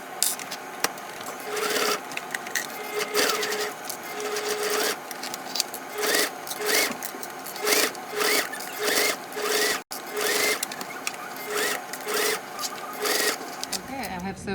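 A sewing machine runs in repeated bursts as fabric is stitched down for a sewn bag, with stops and restarts between runs, loud and close.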